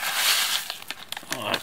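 An instant noodle seasoning packet is handled close up. A burst of dry crinkling is followed by scattered short crackles and rustles, with a voice speaking briefly at the end.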